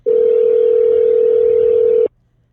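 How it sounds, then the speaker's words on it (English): Telephone tone on a radio call-in line: a single loud, steady electronic tone held for about two seconds, then cut off abruptly into silence. "that's a loud ringer."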